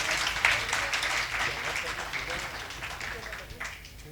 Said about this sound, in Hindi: एक बार सौरभ कांत जी के जोरदार तालियां बजाइए।